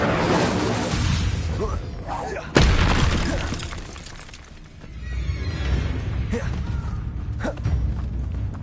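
An Incendio fire spell cast in the video game Hogwarts Legacy: a sharp impact followed by a roaring, crackling whoosh that slowly fades, set in dense game noise with a voice over it.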